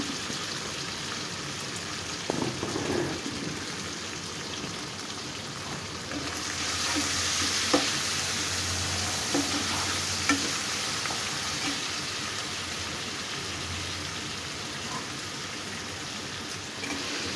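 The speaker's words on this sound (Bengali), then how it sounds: "এখানে টমেটো দিয়ে নিলাম বড় সাইজের দুইটা টমেটো দিচ্ছি এখানে" Two large tomatoes hit hot oil in a pan, setting off a steady, close sizzle and crackle with a few stirring clatters, as dried fish curry with eggplant and potato cooks. No one speaks.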